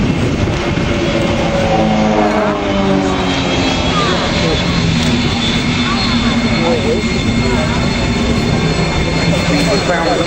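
Aerobatic display aircraft pulling up into a loop at the Fairford Royal International Air Tattoo airshow, a loud sustained jet roar with shifting engine tones, under a commentator's voice.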